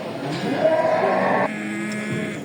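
A cow at a livestock market in Muş, Turkey, lets out one long, loud moo of about a second. Quieter bovine sounds and market ambience follow.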